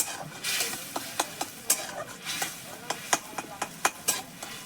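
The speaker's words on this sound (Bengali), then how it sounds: "মশলাটাকে ভালো করে কষিয়ে নেব" A spice masala of whole cumin, ginger, garlic, onion and tomato fries in oil over a wood fire for egg curry. A soft sizzle runs underneath sharp, regularly spaced scrapes and knocks of stirring, all fairly quiet.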